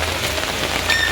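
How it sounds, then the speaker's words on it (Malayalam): Heavy monsoon rain pours down in a steady, loud, close hiss with dense drops, heard alone with no voices. "നല്ല മഴയുണ്ട് കേട്ടോ"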